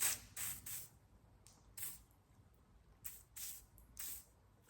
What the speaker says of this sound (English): spray that real good.